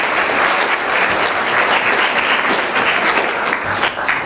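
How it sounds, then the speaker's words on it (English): An audience at a Science Saturdays event claps for Team 24. The dense, steady applause is loud and close and runs for about four seconds with no voices over it. "So hand of applause for Team 24."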